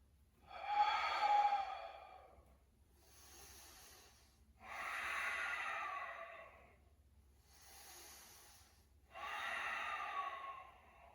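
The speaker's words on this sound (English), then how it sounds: "Let's take 3 deep breaths in our lunge." Three slow, deep breaths are taken during a yoga lunge, each a long, close, airy inhale and exhale swelling and fading in an even rhythm, with quiet pauses between and no talking.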